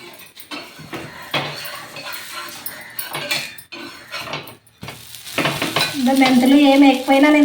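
Dosa batter sizzling and frying on a hot pan, with scraping and stirring clatter of a utensil, growing louder and steadier toward the end.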